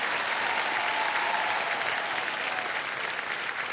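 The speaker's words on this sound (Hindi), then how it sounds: "यहाँ इस प्यारी न्यारी तालियां बजाती हुई जनता का प्यार और प्रोत्साहन मिलता है।" A television game show studio audience applauds in a dense, steady wash of clapping that holds at an even, fairly loud level throughout, with no voices over it.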